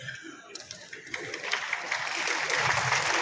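An audience at a national political convention hall clapping, applause building from scattered claps into a steadier, denser wash that grows louder toward the end.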